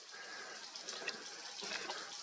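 A stream flows steadily past a tree and mossy ground at Ynys Pandy, a continuous close rushing and splashing with no talk over it.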